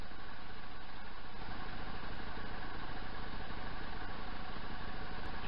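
Motorcycle engine idling, a steady low rumbling putter with a fast even pulse, close and constant for the whole stretch with no voices.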